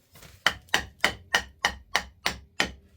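Eight sharp, evenly spaced knocks as a workbench part is tapped into place with a piece of wood, each crisp and close with a quick decay, in a steady rhythm.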